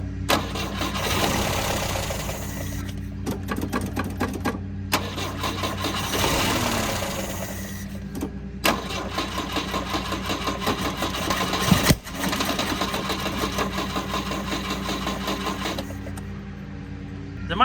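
A 1971 Volvo 142 engine cranks and catches, running rough and lean with uneven revs, stumbling and cutting out between repeated start attempts, loud and close.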